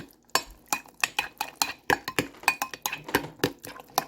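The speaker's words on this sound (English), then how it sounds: "I threw a couple handfuls of spinach in here and I'm stirring it up." A spoon stirring a mixture of cottage cheese, egg and spinach in a bowl, giving a steady run of sharp clinks and scrapes about three per second, close up, with no talk.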